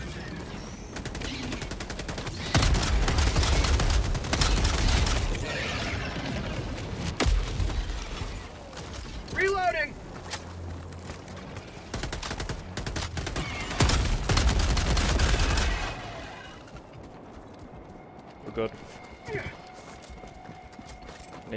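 A sentry turret in Helldivers 2 fires long, rapid bursts of automatic gunfire amid a loud battle. The shooting carries on for over ten seconds, then gives way to quieter, scattered noises.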